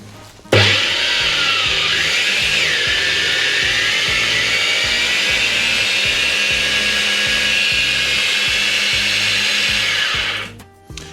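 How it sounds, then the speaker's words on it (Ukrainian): An angle grinder whines loudly and steadily for about ten seconds while grinding sugar into powdered sugar, starting abruptly and spinning down at the end, with no voices. "Зараз буде трішки шумно, я вмикаю е, болгарку."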